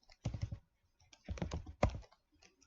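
Keystrokes on a computer keyboard as a cd command is typed in Git Bash, arriving in three quick bursts of clicks with short pauses between, close and fairly quiet.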